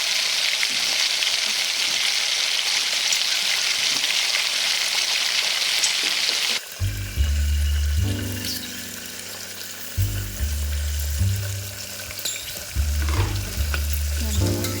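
Fresh peas and vegetables fry in a hot pan for vegetable pulao. A steady bright sizzle comes first, then a stirring phase with scraping, clattering strokes over the continuing fry, close and loud.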